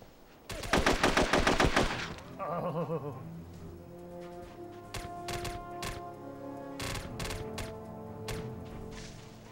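Socom 2 U.S. Navy SEALs on PlayStation 2 online play: a rapid, loud burst of automatic gunfire sprays bullets for about a second, followed by scattered single shots and ringing echoes, with faint talk in the background.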